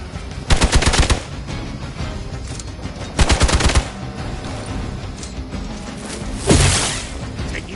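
Video game gunfire in Marvel Midnight Suns rattles out in two sharp automatic bursts, then a single heavy shot, all loud and close over a busy layer of game sound effects.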